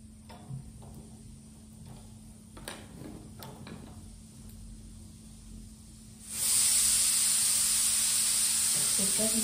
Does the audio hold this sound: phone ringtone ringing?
no